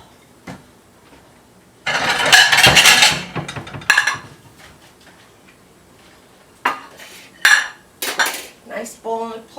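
Metal ladle clinks against a pot while potato soup is scooped into a bowl on a plate, with loud clatter bursts then several softer scraping scoops toward the end.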